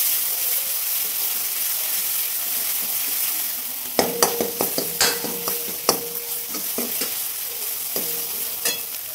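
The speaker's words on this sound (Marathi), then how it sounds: "आता हा मसाला चांगला मिक्स करून घेऊ" Homemade black masala stirred in a frying pan: a steady soft sizzle, then from midway a run of close, sharp scraping strokes in an irregular rhythm over the frying hiss, with no voices.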